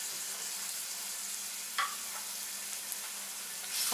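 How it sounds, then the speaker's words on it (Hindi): Quiet, steady sizzle of garlic lightly frying in hot oil, with a faint stir or scrape partway through. "इसको हल्का सा फ्राई करेंगे।"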